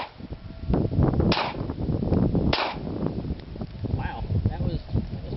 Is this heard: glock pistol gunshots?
yes